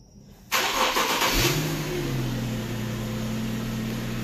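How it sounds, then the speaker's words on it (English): An Infiniti G37 engine cranks and catches via remote start, then settles into a steady idle hum that continues evenly. "Gonna see the car start."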